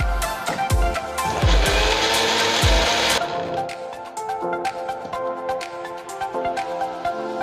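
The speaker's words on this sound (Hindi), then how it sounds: "अब हम इसको ग्राइंड कर लेंगे।" A blender grinds a milkshake with ice cubes, a loud whirring roar with heavy knocks of ice for about three seconds, then cuts out and leaves softer clattering and rattling.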